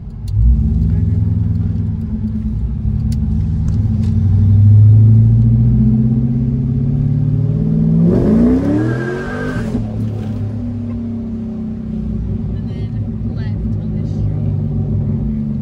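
C5 Corvette engine revving loud and close, a rising and falling exhaust roar with a sharp burst partway through and a rumbling idle after.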